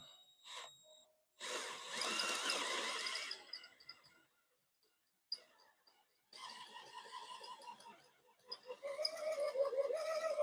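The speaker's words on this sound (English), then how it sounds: "I got me a left-handed drill bit." A power drill fitted with a left-handed bit backs a stuck bolt out of a Gravely mower, in two loud whirring bursts of a few seconds each with quieter gaps and clicks between them.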